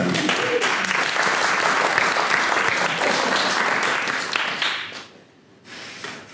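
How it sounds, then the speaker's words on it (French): Audience applause at a French-language corporate talk on managerial innovation, dense steady clapping from a crowd for about five seconds before thinning out and dropping briefly, then picking up again faintly. "Merci d'applaudir Laurence Bastien de Fruis."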